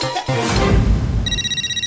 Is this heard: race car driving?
no